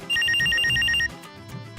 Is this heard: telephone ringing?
yes